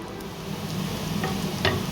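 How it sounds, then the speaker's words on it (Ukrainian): Onions sizzle softly in a pan, a low continuous hiss with a couple of faint scrapes, quiet and close. "Зараз трішки підсмажу цибульку, потім морковку, потім перець"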